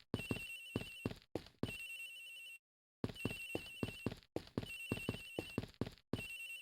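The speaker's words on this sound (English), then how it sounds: "Agent Hicks's phone! It's ringing from somewhere, sir." A mobile phone rings in the Ace Attorney Investigations video game, with a loud electronic ringtone repeating in quick pulsing bursts, a short silent gap partway through, then ringing again.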